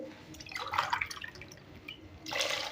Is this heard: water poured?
yes